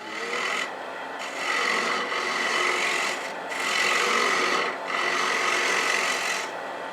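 Ends of wooden cross pieces for a replica St Patrick's Cross are sanded together on a mandrel on a lathe, producing a continuous rasping rub that swells and eases in several long strokes, close and fairly loud.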